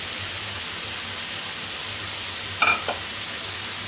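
Meat sizzles steadily in a hot pan for homemade fried rice, a constant close hiss with a brief clink of a utensil near the end.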